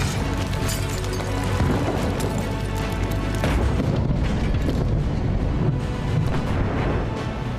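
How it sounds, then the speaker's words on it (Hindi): Heavy explosions from Israeli airstrike bombing in southern Lebanon form a loud, continuous barrage of deep booming rumble with overlapping blasts and no voices. "दक्षिणी लेबनान में इजराइल ने आसमान से इतनी बमबारी की कि पूरा इलाका धुआं-धुआं हो गया।"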